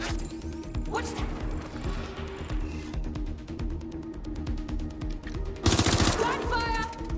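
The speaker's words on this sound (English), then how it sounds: "Gunfire!" Bursts of gunfire in the video game Watch Dogs: Legion, rapid automatic shots and cracking impacts overlapping in a chaotic firefight, with a loud burst near the end.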